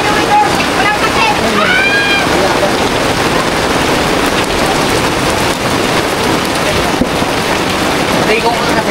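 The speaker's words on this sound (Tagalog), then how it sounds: "alam mo kung ba't lumakas ang ulan?" Heavy rain pouring down around a hut, loud and close: a dense, constant hiss of drops hammering surfaces, with a few voices faintly audible under the downpour early on.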